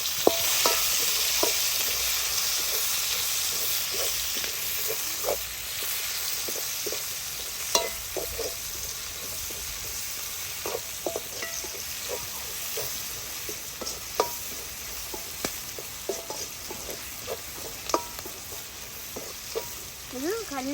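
Onions and chilies fry in a pot with a steady, close sizzle, punctuated throughout by scraping and clicking stirring strokes, with faint voices now and then.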